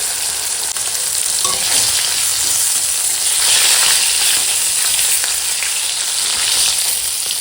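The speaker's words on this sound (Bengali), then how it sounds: "মাছগুলো উল্টে দিলাম" Rohu fish fries in hot oil after being flipped in the pan, producing a loud, continuous close-up sizzle and spatter with slight swells in intensity and no voices.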